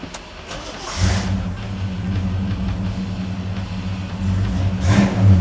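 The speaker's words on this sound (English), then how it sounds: "start it for you so you can hear the rumble of what you're getting" A 1969 Oldsmobile 442 engine cranks and catches, then settles into a steady, deep rumbling idle close by, with a brief rev near the end.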